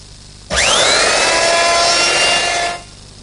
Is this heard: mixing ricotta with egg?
no